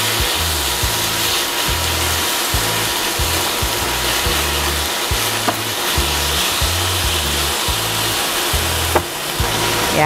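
Tuna taco filling seasoned with cumin, salt and pepper being stirred in a hot pan, with a steady loud sizzle and repeated scraping strokes of the utensil against the pan in a rough rhythm.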